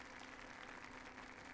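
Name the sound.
applause in Yakuza 0 video game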